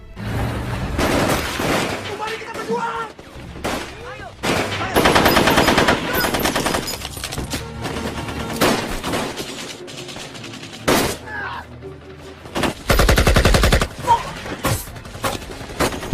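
Bursts of gunfire and explosions from a battle against Dutch troops in the Indonesian film Darah Garuda, loud rapid volleys and booms interrupted by short pauses, with music and voices mixed in.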